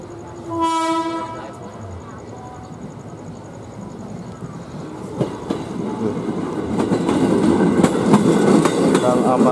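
A KRL commuter train sounds a loud two-tone horn blast near the start, then passes with building rail clatter and clickety-clack rumble that grows louder toward the end.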